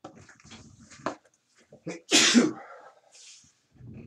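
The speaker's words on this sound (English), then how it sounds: "I'm about to sneeze, forgive me." A single loud, breathy sneeze bursts out close by, with quiet talking before and after it.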